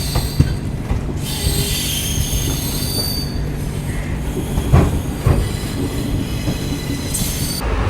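An ICF first-class railway coach running near Mangaluru Central: a steady, loud rumble of wheels on track with high, drawn-out wheel squeal and occasional clacks, no voices.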